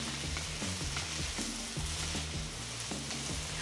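Mushrooms sizzle in a pan on a countertop cooker while being stirred, a constant close frying hiss with regular scraping strokes.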